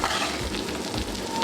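Boiled sweet potato and peanuts are stirred together in a pan on the stove, a close, continuous sizzling and scraping texture with soft low bumps from the spoon moving through the food.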